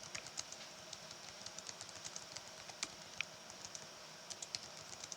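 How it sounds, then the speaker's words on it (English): Steady, light keystrokes on a computer keyboard tap out in an uneven rhythm of crisp clicks, moderately close and unaccompanied by speech, over a low background hum. "I can't believe I have to keep typing that"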